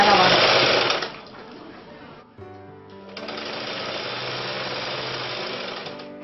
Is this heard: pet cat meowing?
no